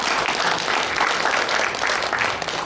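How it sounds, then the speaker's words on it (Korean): Continuous applause fills a lecture hall at a book launch talk at the Korea Press Center, dense even clapping from a sizable audience for the whole stretch with no voices on top. "큰 박수 부탁드리겠습니다."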